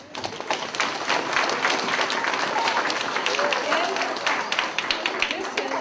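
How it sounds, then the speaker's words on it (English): Grade 4 students at a school assembly applaud their teacher with a sustained, busy patter of claps, while voices talk over it. "Boys and girls, I think we owe Mrs."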